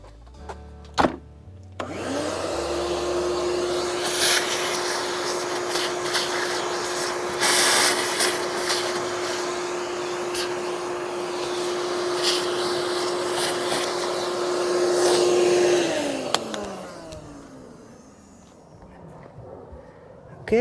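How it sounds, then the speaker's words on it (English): A vacuum cleaner starts up, runs with a steady high whine and rushing suction while picking up debris near a bass boat, with a few clatters along the way, then winds down at the end. "Let me vacuum that one up."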